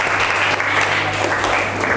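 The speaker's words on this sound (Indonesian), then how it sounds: "Beri tepuk tangan untuk kelompok 2." A classroom of students claps for a student group in a statistics lesson, a short burst of dense, close applause that stays steady throughout.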